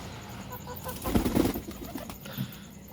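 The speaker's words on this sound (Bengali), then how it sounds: "এটাও ভালো কোয়ালিটির পায়রা" Pigeons in a home loft cooing and flapping their wings, with a brief burst of wingbeats near the middle over low cooing and other bird sounds nearby.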